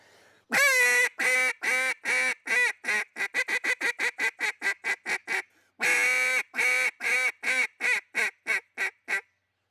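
A handheld duck call blown by a world-class caller imitates duck quacks in a loud, close, rhythmic string, long calls speeding into quick chatter, a brief pause, then another run that tapers off.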